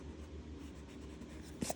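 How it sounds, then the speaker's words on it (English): A pencil eraser rubbing on paper around a drawn head outline, a soft, quiet scrubbing for under two seconds, heard close with no talk. "Just erase outside of it."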